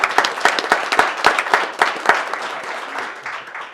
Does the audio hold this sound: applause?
yes